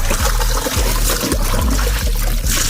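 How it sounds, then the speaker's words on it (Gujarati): Water is bailed out of a small boat on a river: repeated scooping thumps every half second or so over continuous splashing and trickling, close by, with no voices. "કાઢો પાણી કાઢો. આપડે પાછું પાણી કાઢો."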